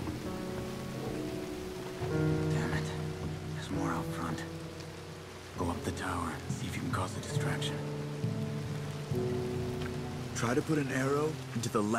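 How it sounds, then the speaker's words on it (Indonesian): Steady rain patters in the background of the game Red Dead Redemption 2 while people talk over it, with a faint rumble at times. "Oh pas hujan ya, karena hujan ya."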